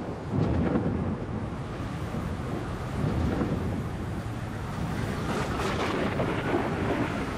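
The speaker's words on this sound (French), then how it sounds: "le tonnerre gronde." Thunder rumbles in a storm, a deep, continuous roll with wind and rain noise that swells and eases throughout, no voices present.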